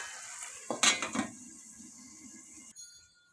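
A metal lid clanks onto a pan of semiya upma, a few sharp close clinks in quick succession that settle into a soft steady hiss before cutting off.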